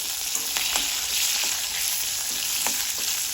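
Green chillies frying in oil make a constant, fairly loud sizzle heard up close, with occasional faint stirring taps underneath.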